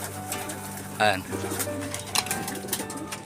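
Racing pigeons cooing softly in a loft ahead of a super sprint race, low repeated coos running under brief wing flutters and other noises, with some people talking nearby.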